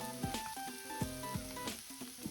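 Mountain udo stir-frying with cooking sake in a pan, a soft sizzle broken by rhythmic spatula knocks and scrapes, quiet and close, with faint tonal background music and no talk.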